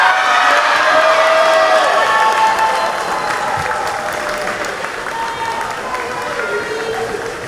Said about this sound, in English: another big round of applause for our senior cheerleaders